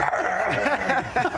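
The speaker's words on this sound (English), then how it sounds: "all of this is basically one big excuse to run my favourite media dog barking moment" A dog barking moment replayed from media during a Sunday footy show broadcast, with a short run of barks and yips heard fairly loud over busy studio sound.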